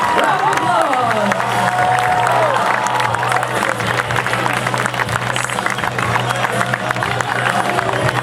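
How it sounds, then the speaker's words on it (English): Crowd applause and cheering at the Mad City Ski Team's national show ski tournament for a 36-month-old water skier named Parker, steady and loud throughout with a constant engine hum beneath and scattered shouts. "Let's give Parker a big Mad City round of applause."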